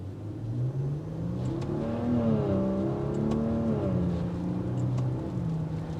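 A 2022 Maserati Levante engine in normal mode accelerating, a smooth, moderately loud rising drone from inside the cabin that climbs and dips in pitch as it gears up.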